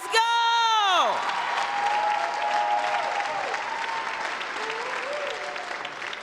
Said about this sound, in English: give a hand of applause for Cam